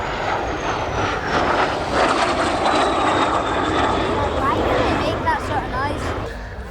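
A MiG-15 jet flies at the East Fortune Airshow 2019, its steady engine roar carrying from a distance with a slowly falling whine, while a commentator speaks over the public address.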